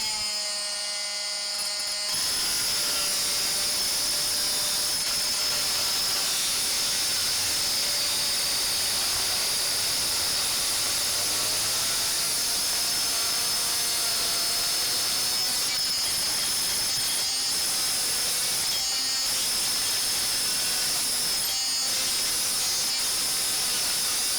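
Dremel Multi-Max MM50 oscillating multi-tool cutting through a screw, a steady high-pitched buzzing whine with a rasping metallic edge that starts abruptly after a short pause and runs continuously and loud, with slight dips in intensity.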